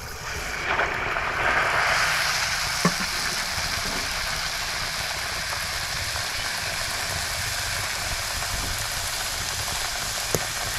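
Ash gourd vada fry in hot oil with a constant loud, dense sizzle and bubbling that continues without a break, broken by a couple of brief clicks.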